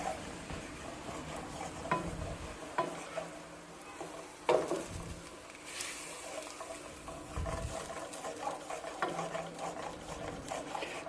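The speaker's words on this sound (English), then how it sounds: "we're just trying to scrape up all of that fond" A utensil scrapes browned onion fond from the bottom of a pan while making chana masala, giving scattered scratching strokes and clinks over a steady low sizzle, with no talking.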